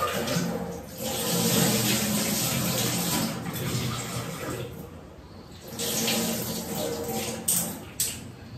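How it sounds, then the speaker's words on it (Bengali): Tap water runs steadily over lentils being rinsed at a kitchen sink, a continuous splashing stream with a brief dip in flow midway and a couple of small clatters near the end. "ডালটা ধুয়ে নেবো"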